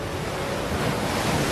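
Sea waves washing through shallow water, a continuous broad rushing wash with light wind buffeting the microphone, steady and fairly loud throughout.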